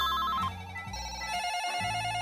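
A telephone bell rings in a steady repeating pattern, loud and close, with no voices over it.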